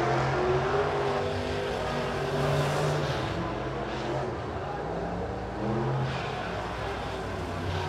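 B-Modified race cars at Springfield Raceway roar continuously through a heat race, a steady loud engine drone swelling and fading as cars pass, with faint talk in the background.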